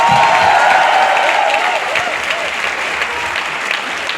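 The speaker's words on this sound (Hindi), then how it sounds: "एक बार केशव के लिए तालियां होनी चाहिए" A large crowd at a live motivational event in Jaipur claps steadily in a dense, loud wash of applause, with faint voices under it.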